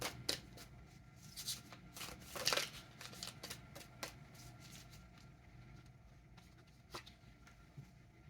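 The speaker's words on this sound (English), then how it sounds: "I will pull a little bit from this just to get a few cards." Tarot cards shuffled and drawn from a deck, a run of quick soft riffles and crisp card snaps, clustered early and then sparser, close and quiet against a hushed room.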